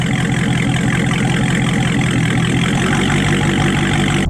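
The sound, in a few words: Dodge Charger Scat Pack 6.4 liter V8 engine idling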